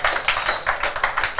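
An audience claps briefly, with close, rapid overlapping hand claps in a short burst.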